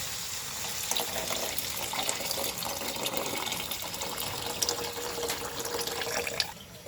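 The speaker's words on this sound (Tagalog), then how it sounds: "Lagyan na po natin ng tubig." Water runs steadily into a cooking pot while goto, a Filipino rice porridge, is being prepared, a continuous splashing gush that holds even and fairly close before cutting off near the end.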